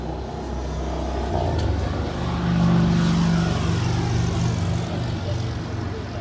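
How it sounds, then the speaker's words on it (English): An Air France Boeing 777-300ER departing from the north side of Los Angeles International Airport produces a steady, loud engine roar that swells slightly in the middle, heard at a distance outdoors with a voice talking over it. "Now departing there on the north side is Air France Flight 65, departing to Paris Charles de Gaulle."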